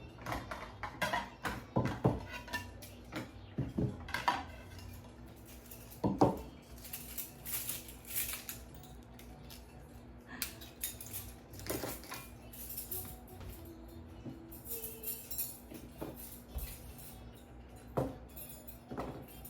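Plates, forks and a steak knife clink and clatter in a series of sharp, scattered impacts over steady background hum, set out for an outdoor barbecue with corn and brussels sprouts.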